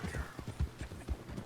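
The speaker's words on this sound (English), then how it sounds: "horse running you the hell over" Horse hooves galloping in the video game Red Dead Redemption 2, a quick rhythmic clip-clop of repeated thuds moving at speed, moderately loud with a voice talking faintly underneath.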